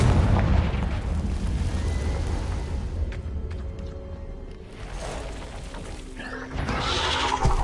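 Confringo spell explosion in Hogwarts Legacy, a loud, rumbling blast with a booming low end that decays into a lingering roar before another burst swells near the end.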